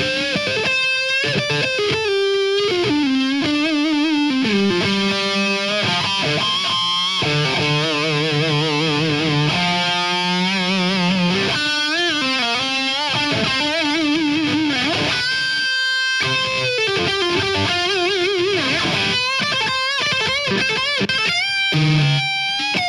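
A distorted electric guitar, a Zakk Wylde signature Gibson Les Paul on its bridge pickup with the tone up, plays a continuous lead line, sustained singing notes and bends with a bright, gritty tone, loud and up close.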